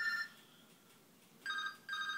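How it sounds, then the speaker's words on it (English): Telephone ringing in bursts, a short ring at the start, then two longer rings after a pause, clear and fairly close with no talk over it. "excuse me, my phone is ringing."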